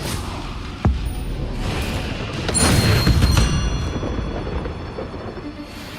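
A Confringo blasting spell in Hogwarts Legacy, a muffled boom with a sharp crack followed by a rolling, thunder-like rumble over steady background ambience, with no talking.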